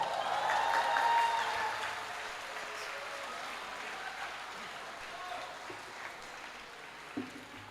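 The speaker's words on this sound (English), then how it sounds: "a huge round of applause for Professor Robin" An audience applauds Professor Robin at a university alumni event: sustained clapping fades to a soft, steady patter, with faint tonal music or voices early on and a small thump near the end.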